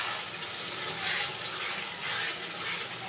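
Spice-mixed water is poured into a pan of dahi potol, giving a steady, close, hissing pour that runs evenly throughout.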